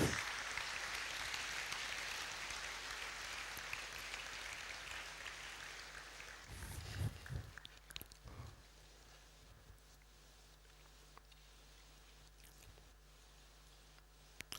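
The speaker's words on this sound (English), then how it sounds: "let's give a resounding round of applause for our Vice President" Audience applause at ThePlatform event in Abuja for the Vice President, a crowd clapping steadily that thins out midway, leaving a few scattered claps and quieter room noise.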